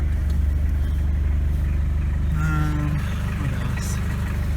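A 1986 Ford Escort diesel wagon engine runs steadily up close, a loud, constant low rumble throughout with a brief rise in pitch midway, as if revving slightly, and no talking.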